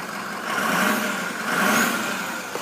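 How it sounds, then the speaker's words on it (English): A 2006 Ford F-350 Super Duty XL pickup engine runs steadily close by, its broad rumble swelling twice as the throttle is blipped, with no talking over it. "I'll let you listen to the engine real quick."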